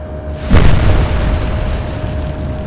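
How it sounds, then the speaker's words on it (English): A big shell explosion hits a warship's superstructure in the naval combat game Atlantic Fleet, a loud booming blast that bursts in early and then rumbles on, heard alone with no talk. "It's a big explosion there against the superstructure."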